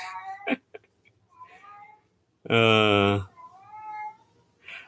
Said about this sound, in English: You hear the cat?